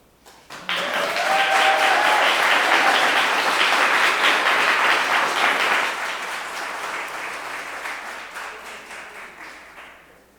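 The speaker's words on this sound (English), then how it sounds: "Big round of applause." Audience applause at a creative writing event, a broad wash of clapping that swells quickly, holds steady and loud for several seconds, then eases to a softer, thinning patter before fading.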